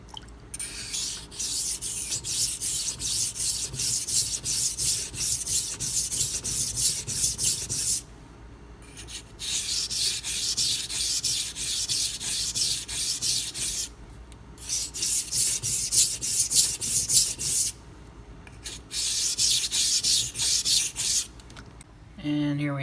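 A Spyderco Endura 4 Wharncliffe knife is stroked across a Pride Abrasives sharpening stone, producing loud, steady rhythmic scraping in long runs broken by several short pauses, with no talk.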